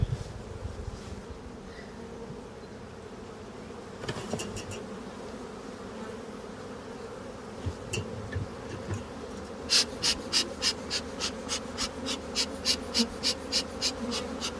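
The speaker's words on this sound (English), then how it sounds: "I don't know if this hive's a little more aggressive than the others, or just getting to be that time of day." Honey bees buzz around a hive outdoors, a constant droning hum with a few close passes, followed near the end by a run of rapid, evenly spaced clicking pulses.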